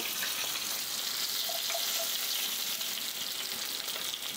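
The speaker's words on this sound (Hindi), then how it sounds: "इसी तरीके से बाकी मछली भी हम फ्राई कर लेंगे" Fish frying in hot oil for a fish curry, a steady broadband sizzle that holds at an even, moderate level throughout with no pauses and no voices.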